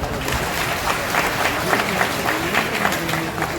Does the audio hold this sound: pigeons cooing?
no